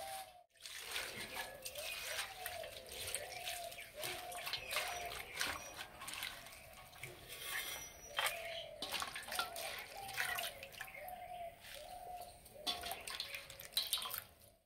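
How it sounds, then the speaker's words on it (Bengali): Malabar spinach leaves being rinsed in water in a home kitchen, with soft splashing, dripping and trickling that continues steadily at close range while a person talks intermittently. "এবারে পুঁই শাকটা ধুয়ে নেব।"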